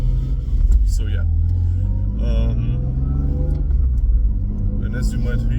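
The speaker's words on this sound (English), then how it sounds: "you still hear the exhaust and it still makes noise" Low, droning exhaust rumble of a BMW E36 heard from inside the cabin, steady beneath people talking.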